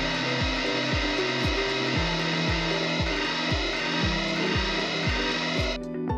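Electric mixer beating 80 grams of unsalted butter for a Christmas plum cake batter, running as a steady loud whir with a repeating rhythmic pulse of the beaters against the bowl, then cutting off near the end.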